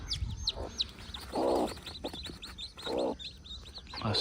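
Chickens on a goat farm cluck and chirp in short bursts, with a few sharper peeping calls scattered between, fairly close and moderately quiet.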